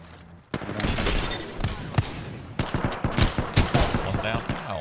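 Gunfire in Apex Legends erupts after a brief quiet, with sharp repeated shots and rapid bursts close and loud, mixed with impacts and a voice calling out under the fight.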